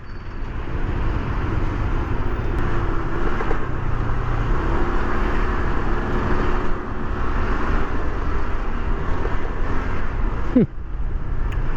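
Heavy road traffic, a steady loud rumble of many engines and tyres filling the whole stretch, with a brief squeal near the end.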